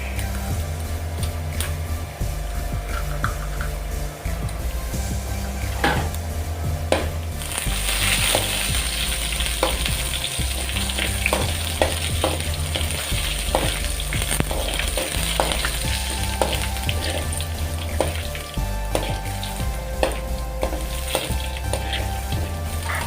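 About two spoonfuls of urad dal fry in hot oil for a cabbage dish, giving a steady crackling sizzle with rapid popping and occasional sharp ticks that run evenly throughout.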